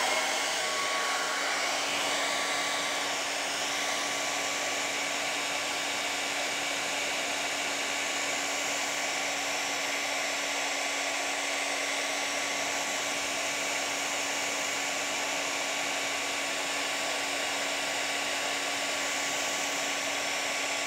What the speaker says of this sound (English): I've got a hairdryer. We're just going to point the hairdryer in different directions.